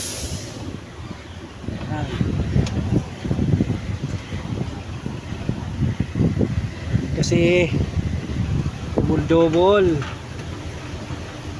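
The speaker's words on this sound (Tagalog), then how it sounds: "Yan, malakas palang hangin dito guys." Strong wind blustering steadily across the microphone outdoors near a parking area, a rough continuous rumble with gusts, with people talking over it throughout.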